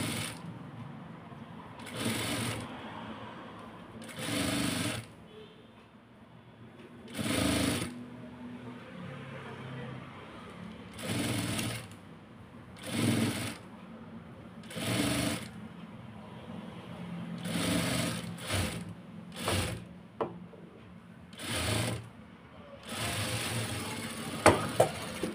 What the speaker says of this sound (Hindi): ऐसे फोल्ड करके मुझे इसके ऊपर सिलाई लगानी है।